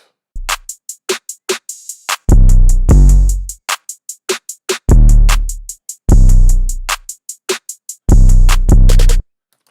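A punchy programmed rage-style rap beat made in Logic Pro X, with booming 808-style kicks, sharp snares and ticking hi-hats in a loud, repeating hip-hop groove.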